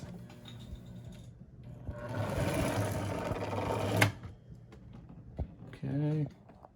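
A Santa Fe model train locomotive on a test track whirring up with a rising motor buzz and rattle for a couple of seconds, ending in a click, followed by someone speaking nearby.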